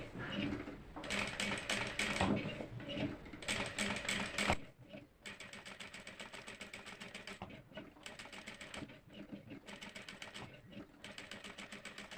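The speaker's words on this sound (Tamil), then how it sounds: "அப்படியே ஸ்டிச் பண்ண ஆரம்பிக்க வேண்டியதான்" A sewing machine stitches in steady rapid mechanical clatter, running in long bursts with brief stops in between, close and clear.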